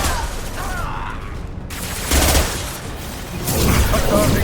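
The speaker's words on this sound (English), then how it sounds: "Firing an impact shot." Impact shot gunfire in the Mass Effect video game, heard as a couple of loud bursts of shots and booms over a steady game backdrop, with a brief pause between them.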